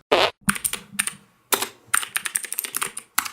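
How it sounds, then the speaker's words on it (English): Typing with one hand on a computer keyboard: irregular bursts of sharp, close key clicks separated by short pauses. "he's typing with one hand"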